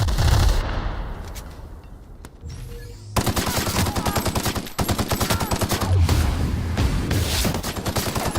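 Rapid gunfire in The Outer Worlds video game, with dense bursts of automatic shots and booming impacts that fill the clip loudly, after a brief quieter stretch near the start.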